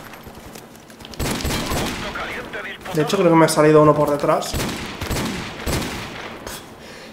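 Gunfire in Call of Duty Modern Warfare Remastered on the map Creek, sharp bursts of shots around a longer rattling volley in the middle, with someone talking over the game sounds.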